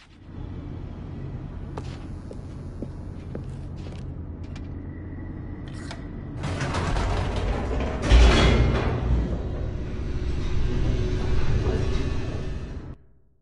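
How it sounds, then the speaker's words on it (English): An elevator descends in The Stanley Parable, starting as a low steady mechanical hum with faint clicks, then swelling after a few seconds into a louder rushing rumble with a sharp clunk, before cutting off at the end. "The elevator raced downward, plummeting towards an unknown fate."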